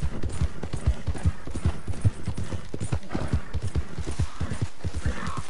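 Horse hooves clip-clop at a steady trotting rhythm while riding through town in Red Dead Redemption 2, close and fairly loud with a faint background bed.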